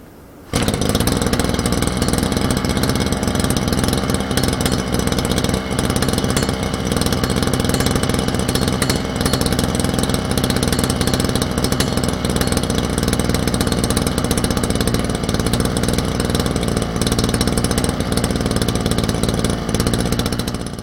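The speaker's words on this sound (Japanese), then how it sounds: "これでリコイルスターターを引くと一発でエンジンがかかります。" A small two-stroke brush cutter (grass trimmer) engine starts abruptly from a recoil pull, then runs steadily at a high buzzing pitch, loud and close, holding constant throughout.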